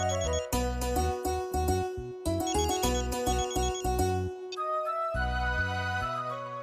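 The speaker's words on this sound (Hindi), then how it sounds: "साहिल का फोन है।" A melodic electronic phone ringtone plays a looping synth tune with punchy bass notes, loud and continuous at close range with no talking over it.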